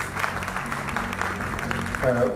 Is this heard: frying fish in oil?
no